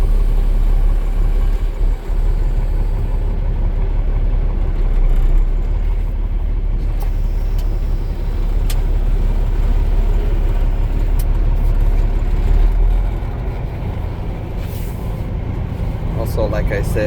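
Car interior during a test drive of a T800, with steady engine and road rumble running throughout the whole stretch under a man's speech.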